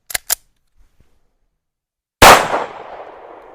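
Two quick sharp clicks, a pause, then a single loud gunshot with a long ringing decay, as a gun fires Winchester White Box ammunition and then jams.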